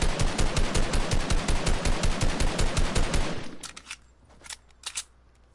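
Rapid automatic gunfire from the video game Fortnite, a dense steady burst of shots for about three and a half seconds, then a few scattered single shots trailing off more faintly.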